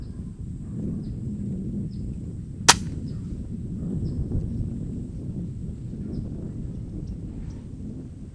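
A moderated Weihrauch HW 110 .22 PCP air rifle fires one sharp, short crack outdoors, standing out from a steady bed of wind noise, with faint bird chirps scattered around it and no talking.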